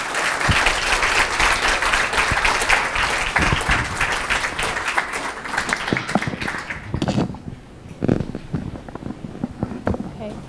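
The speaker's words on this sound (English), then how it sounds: "We could all please show our thanks with a round of applause." Audience applause at an evening talk by Radhanath Swami in London, a full room clapping loudly for several seconds, then thinning out to scattered claps and murmuring voices.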